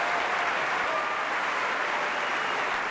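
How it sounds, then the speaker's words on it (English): Applause from an opera house audience and orchestra at the final curtain, a dense, steady roar of many hands clapping at full volume without a break, with no speech. "At the final curtain, the audience jumps to its feet. Even the orchestra applauds."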